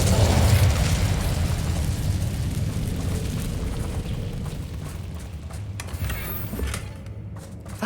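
Incendio fire spell explosion in Hogwarts Legacy: a loud burst at the start that fades into a long rumbling roar, with faint clanks near the end and no talk.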